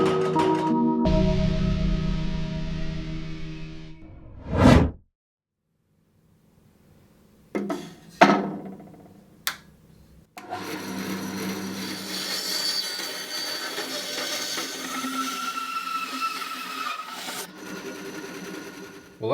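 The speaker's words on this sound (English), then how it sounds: "the first thing I'm going to do is mill up this piece of timber so it fits in the mould" Milling a piece of burl timber with a power tool in a woodworking shop: a steady machine whine runs for several seconds, stops, then short cutting bursts and sharp knocks follow before a longer rough grinding pass.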